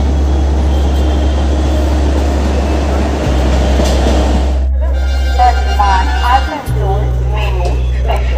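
Train pulling into a railway platform, a steady low rumble and rolling wagon noise with a deep droning hum, a shift in tone midway as the engine drone changes, loud and close throughout.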